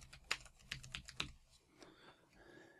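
A few sharp computer keyboard clicks sound up close as words go into a search box, a quick burst of keystrokes followed by quieter, scattered taps fading into near silence.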